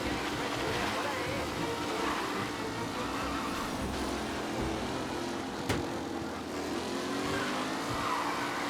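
Race car engines roar and whine through a race in Mafia: Definitive Edition, with cars passing close and a brief skid, while someone talks over the noise.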